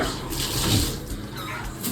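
Water splashing and streaming steadily, close up, like a shower running, with a broad hiss throughout.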